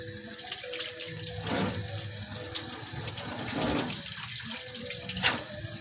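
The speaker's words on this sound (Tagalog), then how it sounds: "Atong hugasan ang tako." Tap water runs steadily into a sink while an octopus is washed by hand, giving a close continuous splash with occasional louder splashes and knocks.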